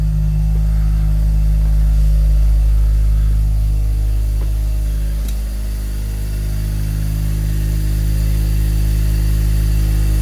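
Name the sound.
Mazda RX-7 Turbo II rotary engine idling after cold start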